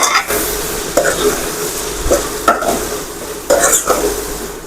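Eggplant curry with coriander-cumin powder being stirred in a pan, a soft sizzle under repeated scraping strokes of a spoon against the pan, close and steady.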